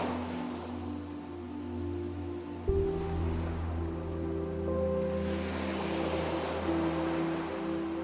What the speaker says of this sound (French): Alors que vous écoutez le son de chaque vague, le son de la musique